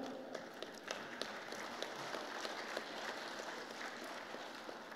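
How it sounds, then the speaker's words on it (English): At a conference technical session on sustainable development and CSR, an audience applauds in a faint, distant, continuous patter of many hands, with a few sharper claps standing out. "So a big round of applause for the government of Nagaland"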